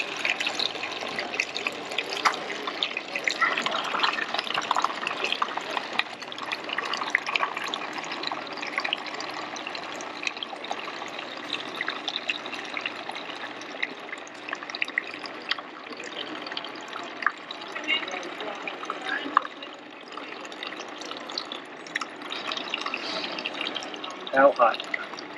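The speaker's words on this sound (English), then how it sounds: "I'm going to pour it all into this nice cheap bucket." Low country boil liquid pours through a pot lid into a cheap bucket at an RV campsite by Kerr Lake, a steady watery splashing and trickling that continues throughout at moderate level.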